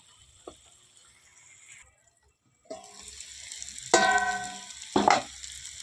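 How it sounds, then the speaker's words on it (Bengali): Potatoes sautéing in oil in a pan for a traditional Bengali home-style dish, with soft sizzling broken by a few louder bursts of frying and stirring clatter, close and unaccompanied by speech. "এবারে আলুগুলো দিয়ে আর একটু কষিয়ে জল দিব।"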